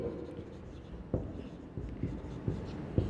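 Writing strokes scrape and tap on a board during a chemistry lecture on haloalkanes, coming as soft, irregular scratches with a few sharper knocks, close by and quiet, with no talk over them.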